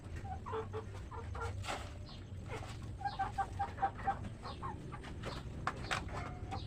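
Rhode Island Red chickens cluck repeatedly nearby in a farmyard, a run of short rhythmic clucks over a low background hum.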